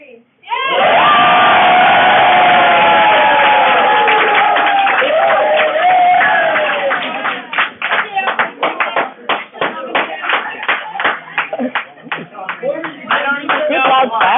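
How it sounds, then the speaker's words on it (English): A group bursts into loud clapping after a count-in, first a sustained roar of cheering and shouting voices, then sharp, closely spaced claps dominating in rapid irregular bursts that fade toward the end. "Good loud clapping"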